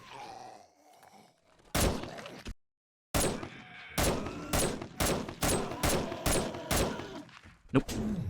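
Gunfire in the 7 Days to Die video game: an opening burst, a brief silence, then a steady run of about eight sharp, loud single shots at even spacing, with one last shot near the end.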